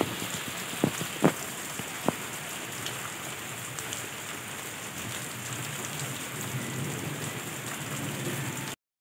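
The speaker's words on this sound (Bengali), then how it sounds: "তো এই যে এখন ঝমঝমিয়ে বৃষ্টি পড়ছে ভীষণ জোরে জোরে," Heavy rain pours steadily on surfaces, a constant wash of noise, with a few faint sharp cracks early on that could be distant thunder.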